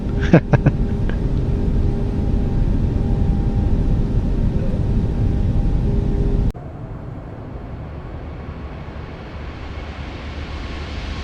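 Airplane landing in a video game on a carrier-like airfield, a loud roaring engine and wind rush with brief clunks at the start, then an abrupt drop to a quieter rumble.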